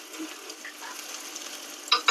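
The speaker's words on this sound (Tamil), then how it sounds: "இஞ்சியை நல்லா இப்படி வறுத்துக்கணும்" Ginger frying in a pan, a close steady sizzle with light stirring, ending in a couple of quick metallic scrapes.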